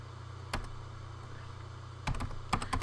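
Keys clatter on a Commodore 64 keyboard in short irregular bursts, a single tap followed by a quick flurry of presses, close and crisp over a steady low electrical hum.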